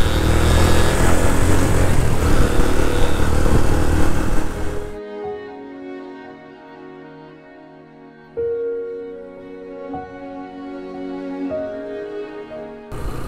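A motorcycle rides along a single-lane rural road toward Panjpeer Rocks near Kahuta, Rawalpindi. A loud rush of engine and wind gives way to a steadier, quieter engine hum with shifting tones.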